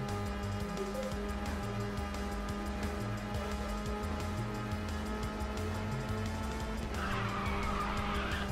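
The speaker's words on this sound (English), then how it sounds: "Slight drift there, slight drift here." Race car engine in Ridge Racer 6 drones steadily throughout, with tires squealing through drifts and a louder, brighter screech near the end; no talking.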